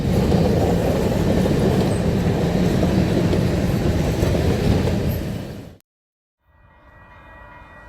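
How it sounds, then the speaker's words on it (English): A Canadian Pacific local freight train passes close by at Brickburn, heading east toward Calgary: a loud, continuous rumble and wheel clatter that cuts off abruptly, then a quieter rolling sound resumes. "Take this train for example."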